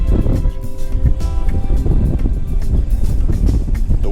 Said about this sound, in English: The wind is really getting out of control now.